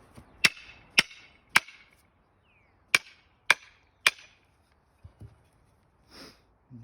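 Sharp metallic hammer blows ring out as an axe head is driven onto its handle, three evenly spaced strikes, a short pause, then three more, followed by faint handling noises.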